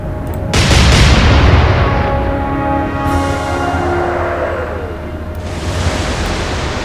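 Warship guns firing shells in the naval game Atlantic Fleet, a heavy booming salvo that rolls out into a long rumbling decay, followed by a second muffled blast.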